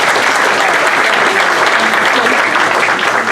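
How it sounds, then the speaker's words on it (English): A crowd at a Republican town committee nomination meeting in Danbury applauds the city council at-large nominees, loud, dense, sustained clapping throughout with no speech over it. "Would you please clap for your city council at large?"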